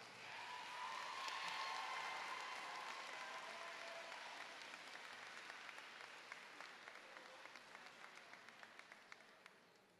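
Sustained applause from a high school graduation ceremony crowd, dense clapping that stays fairly even throughout and thins slightly toward the end, heard at a distance.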